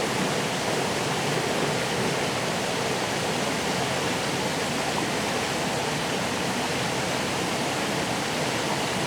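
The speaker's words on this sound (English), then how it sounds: "Sitting with Jesus by a little waterfall somewhere in New Jersey." Steady, full rushing water from a small waterfall, continuous and close, with no voices over the flowing roar.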